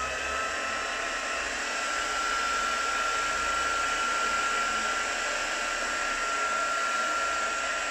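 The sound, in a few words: heat tool drying texture paste on a mixed media tag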